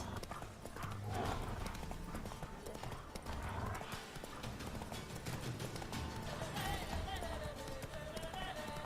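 Roach the horse gallops in The Witcher 3, its hooves beating a fast, steady clip-clop rhythm over game music and ambience, with a brief whinny.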